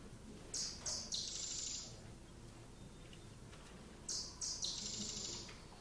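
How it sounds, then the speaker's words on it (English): A small bird sings two bright, high-pitched trills a few seconds apart, with quiet background between them. "that simple little trill, actually each individual bird is different from the next one in the intricacies of those trills"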